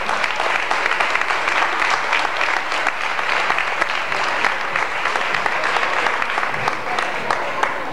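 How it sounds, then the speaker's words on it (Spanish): An audience at an athletic club's 78th anniversary celebration applauds steadily, a thick continuous wash of many hands clapping at moderate distance, sustained without pause throughout. "Pero sí a toda esta gente un fuerte aplauso"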